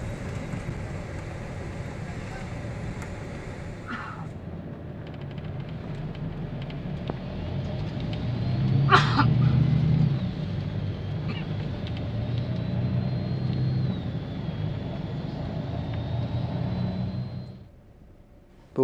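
Steady engine rumble and road noise from inside a touring coach bus departing an agent stop onto the highway in the evening, with a brief louder passing swell midway and a fade near the end.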